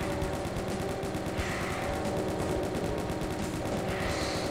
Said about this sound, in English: We get chain gun early.